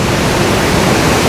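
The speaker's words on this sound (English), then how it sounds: "So we are now underneath Elephant Waterfall." Roaring wall of water from beneath Elephant Waterfall in Dalat, a loud, dense, steady rush filling the space with no other sounds.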